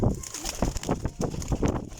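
Pigeons coo in a tight pen, a cluster of soft, close, repeated throaty pulses in quick succession.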